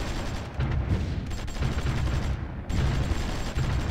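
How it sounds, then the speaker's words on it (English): Artillery bombardment in the strategy game Supreme Ruler Ultimate near Amsterdam, a steady barrage of rapid gunfire-like bursts and booms that rolls on loudly, broken by brief pauses. "they're actually doing some bombardment here by the looks of it"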